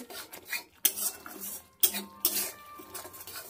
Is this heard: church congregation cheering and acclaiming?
no